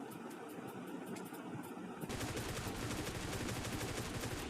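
Automatic and rapid gunfire in the mobile battle royale game PUBG Mobile Lite, dense bursts of shots starting halfway through and continuing loud and steady.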